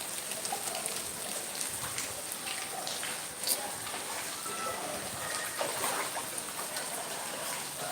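Steady rain falls in the city of Batam, a soft, continuous patter of drops on surfaces heard from nearby with no break.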